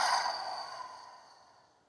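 A single long, forceful breath exhaled through the nose or mouth during a Kundalini yoga breathing exercise, close and breathy, fading steadily away into quiet.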